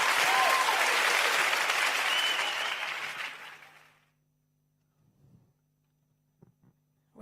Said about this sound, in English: Please, another round of applause for Mr. Kingsley E. Young.